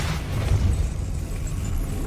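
A Depulso force spell goes off in Hogwarts Legacy as a short, muffled boom that swells and then rumbles on as a dull low blast through the whole moment.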